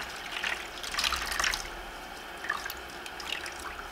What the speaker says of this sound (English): Rinse out your sponge. Get that color out of there.